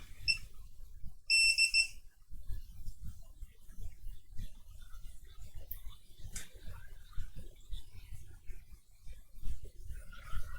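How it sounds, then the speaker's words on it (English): A short burst of high electronic beeps from a soldering iron going to sleep sounds early on, followed by quiet handling noises and faint clicks. "that beeping you're hearing is a soldering iron going to sleep"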